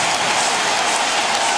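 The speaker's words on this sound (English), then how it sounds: "Listen to this crowd." A basketball arena crowd during a Magic vs Pacers playoff game roars in a dense, steady wash of cheering and clapping, loud and sustained without a break.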